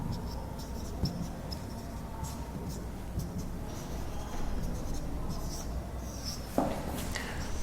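Pen scratching steadily on paper while a math derivation is written out, a continuous soft rubbing texture with occasional taps, under a quiet room hum.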